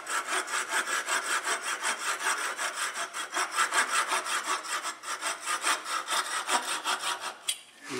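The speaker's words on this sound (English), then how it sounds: "I don't mind using a saw." Hand saw cutting a small piece of wood for a toothpick holder, with a close, steady back-and-forth rasp of about thirty quick even strokes that ends in a brief pause.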